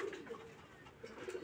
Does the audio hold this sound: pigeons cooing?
yes